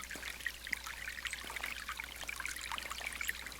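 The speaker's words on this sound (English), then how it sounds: "I love the sound of the water flowing over the rocks and the branches and trees that have fallen over time into the water" A small forest stream trickles over rocks and fallen branches, a soft continuous babble with scattered bright droplet splashes, fairly faint and heard alone without any voices.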